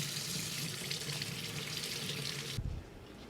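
Tap water runs steadily into a sink while leeks are washed, a close, even rush that stops abruptly near the end with a brief clunk, no talking.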